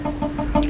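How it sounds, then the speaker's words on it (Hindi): A hen in a small cage clucks in a quick run of four short, evenly spaced clucks, close and fairly loud, with a brighter burst at the end. "इस छोटे से पिंजरे में मुर्गी कैसे फंस गई?"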